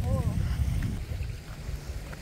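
Steady low rumbling wind buffets the microphone throughout, with a brief faint voice near the start.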